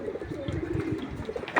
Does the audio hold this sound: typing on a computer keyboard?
no